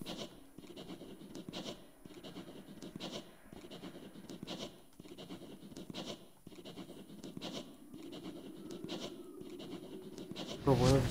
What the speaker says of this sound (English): It sounds like a ball pen.